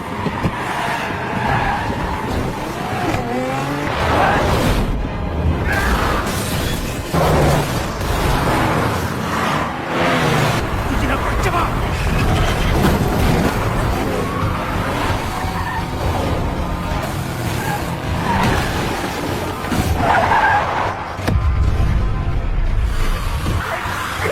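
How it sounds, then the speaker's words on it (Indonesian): A car chase in the zombie film Peninsula brings long, loud tire squeals and skids over steady engine roar, with swerving vehicles and crashes blending into one continuous, intense action-scene mix. "kembali terjadi adegan kebut-kebutan yang seru di sini"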